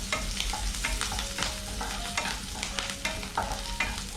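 Chopped ginger, garlic, green chili and curry leaves sauté in hot oil for a chicken roll filling. A spoon scrapes and stirs in a steady rhythm over a continuous close sizzle, with no voices.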